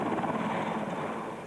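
Helicopter heard during a training exercise: a steady, fairly loud rotor drone with a continuous whirring chop that stays even from start to end, with no voices.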